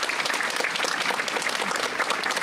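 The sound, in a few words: audience applause at a graduation ceremony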